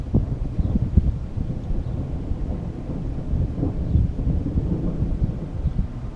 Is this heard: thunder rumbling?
yes